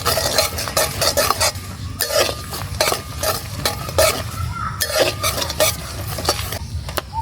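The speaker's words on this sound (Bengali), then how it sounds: "ফোড়নে দিয়ে দেব গোটা জিরে, গোটা শুকনো মরিচ, গোটা তেজপাতা আর কিছু গরম মশলা।" Whole cumin, dried chilies, bay leaves and garam masala fry in hot oil for a Bengali ilish fish dish, a steady close sizzle broken by repeated scraping and clinking of a stirring spoon against the pan.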